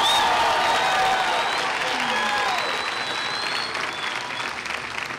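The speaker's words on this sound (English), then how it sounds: "Let's have one more round of applause for our bachelor's degree candidates." Sustained applause from a large graduation ceremony audience celebrating bachelor's degree candidates, a dense, steady wash of clapping with some cheering, loud and continuous throughout.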